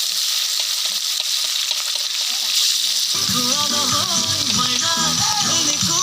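Steady, bright sizzling of fish frying in hot oil in a wok, continuous throughout, with background music and faint voices joining partway.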